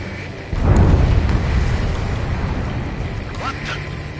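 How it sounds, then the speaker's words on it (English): A huge underwater explosion in Ace Combat 7 bursts in as a deep, rumbling boom that swells suddenly and rolls on for several seconds, with radio voices and faint electronic chirps over the fading roar. "A huge explosion just went off underwater."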